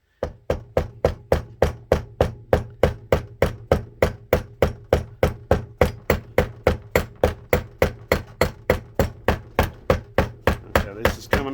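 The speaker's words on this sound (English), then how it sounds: "Notice I'm using plastic and rubber mallet." A plastic and rubber mallet taps on a Mopar distributor shaft to work it loose, striking in a steady rhythm of about three blows per second. The dull, close knocks continue for around eleven seconds with no talking.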